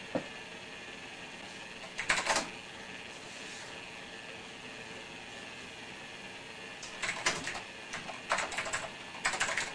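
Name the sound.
typing on an old computer keyboard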